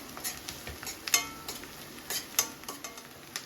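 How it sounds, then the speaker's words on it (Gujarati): Finely chopped garlic and green chillies sautéing in a pan for paneer bhurji, with a light sizzle under repeated sharp scrapes and clinks of a spoon stirring against the metal. "5 થી 7 કળી ઝીણું સમારેલું લસણ એડ કરીશું અને સાથે સાથે 2 નંગ લીલા મરચાં ઝીણા સમારેલા એડ કરીશું અને સંતળાવા દઈશું"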